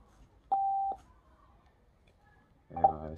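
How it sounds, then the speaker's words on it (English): A TREBLAB FX100 Bluetooth speaker gives its pairing connection tone: one steady, clear beep of about half a second, then a short, buzzier chime near the end, with no talking. "And I assume that that's the sound of connection."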